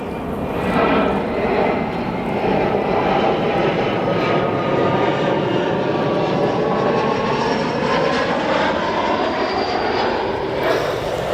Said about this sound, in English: Again, that flight departing to Anchorage.